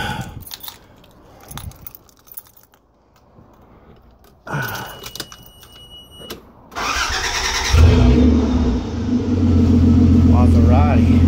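A Toyota FJ80 Land Cruiser engine cranks and catches partway through, settling into a loud, steady idle after earlier rustling and clinking sounds, close by with people speaking briefly before the start.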